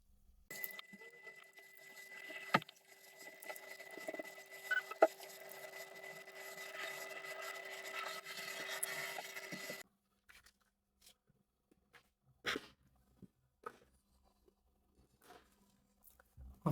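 Tri-wing screws being turned out of a Game Boy Color shell with a small screwdriver, a steady close scraping and rasping for about ten seconds, then scattered soft taps and clicks.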